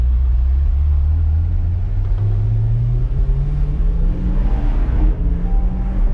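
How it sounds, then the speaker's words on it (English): A big block 8.1L engine in a C8 Corvette pulls hard on the street, its loud, deep rumble rising steadily in pitch as it accelerates, then dipping briefly at a gear change before climbing again, with no talk over it. "it's shifting through the gears, Larry."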